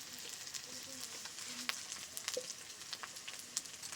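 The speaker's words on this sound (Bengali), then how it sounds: "পেঁয়াজ বেশ সুন্দর করে কষানো হয়ে গেছে।" Well-browned onions frying for a home-cooked desi chicken curry, a soft steady sizzle in the pan with scattered small pops and crackles, quiet and close.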